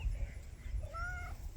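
A cat on a homestead gives a short meow, close and fairly clear, over low outdoor rumble and faint background noise.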